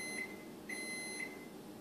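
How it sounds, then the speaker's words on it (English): An oven beeps as it finishes preheating to 350 degrees while a coconut pie filling is being readied: three short, bright electronic tones spaced about half a second apart, fairly clear over a low room hum. "It's at about 345, so you're going to hear it beep in a little while."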